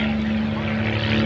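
A De Havilland Mosquito propeller aircraft drones past, a steady, loud engine hum with a strong constant tone, brief and continuous.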